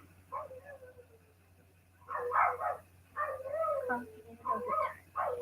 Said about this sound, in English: We got a dog upstairs going crazy.